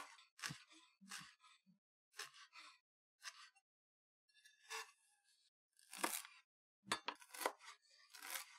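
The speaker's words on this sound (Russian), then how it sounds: "Теперь необходимо нарубить зелень." Knife chopping fresh parsley, dill and green onion on a board: short bursts of crisp, crunchy cuts in uneven clusters with brief pauses between, close and fairly quiet, no talking.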